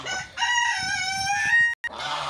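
A young rooster hatched on a small homestead crows loud and close in one long, drawn-out harmonic call, with low farmyard noise before and after.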